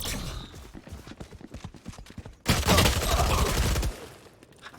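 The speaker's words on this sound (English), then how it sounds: "Flashbang." A flashbang grenade goes off in a video game: after a stretch of light clattering ticks, a sudden loud broadband blast erupts midway and roars for about a second and a half before fading.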